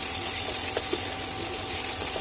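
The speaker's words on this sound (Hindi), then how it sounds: "मीडियम फ्लेम पे 2-3 मिनट तक इसे फ्राई करेंगे" A whole aubergine fries in a pan over a medium flame, giving a steady, even hiss and sizzle that runs unbroken from start to finish, with a few faint pops and no talking.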